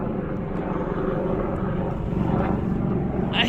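Steady airplane drone flying overhead above a beehive check, a broad continuous roar with no talk, holding level loudness and swelling slightly near the end.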